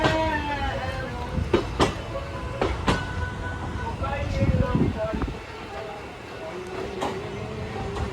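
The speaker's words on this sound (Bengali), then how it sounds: "মোড়া স্টেশন থেকে ট্রেন ছেড়ে বেরিয়ে গেল" A train rumbles and clacks steadily, with sharp metallic clanks and a brief squeal as it moves off; people talk faintly in the background.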